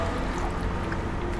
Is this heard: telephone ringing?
no